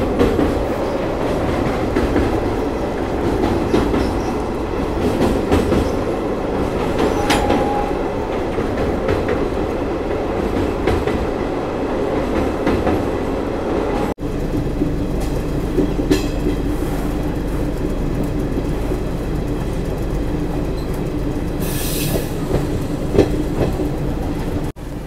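Dhanbad Jammu Garib Rath Express crossing the Falgu river near Gaya Junction, a loud continuous rumble of wheels on rails heard from inside the coach, with rhythmic clatter and brief squeals.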